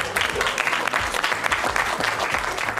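Crowd applauding a clown at an outdoor May Day gathering in Givors, a steady, loud patter of many hands clapping continuously without pause.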